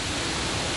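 Pınarbaşı Ilıca waterfall in the Western Black Sea mountains, a steady broadband roar of falling water, loud and close with no breaks.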